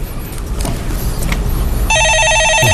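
A telephone rings on a live Korean stock-market call-in show, a steady electronic warbling trill that starts partway through and continues loudly over studio background.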